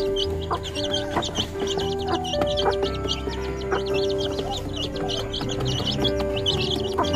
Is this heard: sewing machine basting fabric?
no